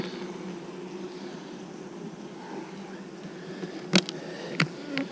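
Honeybees in a hive stacked full to the top during January bee work give a steady, faint buzzing hum that runs throughout, broken near the end by a few sharp clicks or knocks up close.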